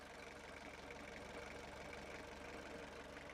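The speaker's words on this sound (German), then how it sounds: "Guck dir diesen Motor an. 60 Jahre läuft er." A roughly 60-year-old jeep engine idles steadily on a dangerous mountain road in Pakistan, giving a continuous rough, knocking drone with no pauses, close and moderately loud throughout.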